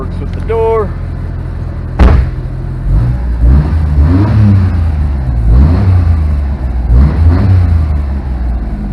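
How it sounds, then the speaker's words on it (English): A 1992 Honda Beat JDM car engine revving, rising and falling in several swells after a sharp click, close by, with a voice speaking over it. "It's a cool sounding car."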